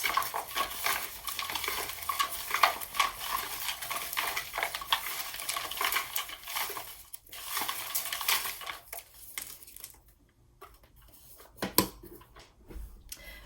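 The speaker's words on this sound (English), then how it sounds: "So as I shuffle, might be a little bit loud." Oracle sticker cards are shuffled by hand, producing a close, busy stream of papery rustling and clicking that thins out toward the end with a few isolated slaps.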